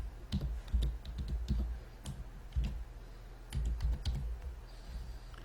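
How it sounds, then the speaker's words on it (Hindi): A run of quick, light key clicks on a computer keyboard as a password is typed, uneven in rhythm with small bursts and pauses, fairly close and alone. "यहाँ पे एक पासवर्ड डाल देते हैं।"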